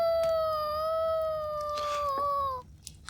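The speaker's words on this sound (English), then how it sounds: "Somehow, the howling had seemed so sad." A single long, steady wolf howl from a video game, sustained and tonal for about two and a half seconds, sounding distant and mournful before fading out.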